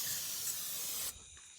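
Parts cleaner sprayed from an aerosol can at wasps on a truck: a single close, steady hiss lasting about a second before cutting off abruptly.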